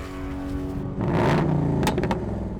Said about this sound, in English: A Mustang without an exhaust note would be a travesty.